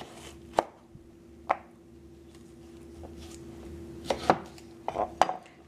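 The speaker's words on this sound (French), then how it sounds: "Je détaille en tranches mon potiron" A knife slices through pumpkin on a cutting board, producing about six sharp chopping knocks spaced irregularly over a low steady background hum, close and clear with no voices.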